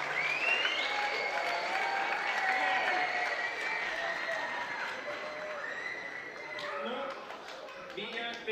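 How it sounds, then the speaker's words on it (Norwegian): An audience at a children's performance event applauds a group of visual arts students, sustained clapping with voices and cheering blended in, tapering slightly toward the end. "Da skal du få en stor applaus sammen med alle de 10 andre på visuelle kunstfag"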